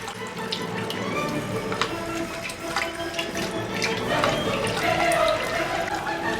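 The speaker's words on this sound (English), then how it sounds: "the airlift works best when the water outlet touches the water surface." Water pours steadily from the outlet of an airlift pump in a jet airlift Hamburger mat pond filter, a continuous splashing, bubbling flow heard up close with no talking.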